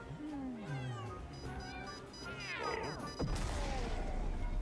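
Several cat meows, one drawn out and wavering, followed by a sharp crash and loud noisy background.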